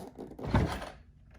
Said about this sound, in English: I'm going to go ahead and open the door and get started.